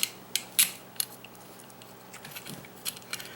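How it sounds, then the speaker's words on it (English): Small metal screws clicking and scraping as they are fitted back into a Singer 301 sewing machine motor, with several sharp ticks close by and faint rattling in a quiet room. "I'm going to put the screws back in."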